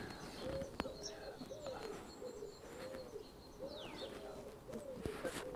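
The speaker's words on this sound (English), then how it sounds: "Oh, look at the ring-necked doves." Ring-necked doves coo softly in a garden, a repeated low rolling call in a steady rhythm, faint and somewhat distant, with a few sharp clicks and light background ambience.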